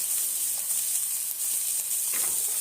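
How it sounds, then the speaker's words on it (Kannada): Finely chopped large onion fries in ghee with cumin seeds for lasooni palak, a steady, even sizzle close to the pan with no talking. "ಸಣ್ಣಗೆ ಹೆಚ್ಚಿಟ್ಕೊಂಡಿರೋ ಒಂದು ದೊಡ್ಡ ಸೈಜು ಈರುಳ್ಳಿ ಹಾಕ್ತಾ ಇದ್ದೀನಿ"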